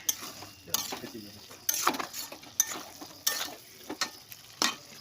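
Taro stems being stirred with turmeric in a pan, a utensil scraping and tapping in repeated strokes over a light sizzle, close and steady with no talk.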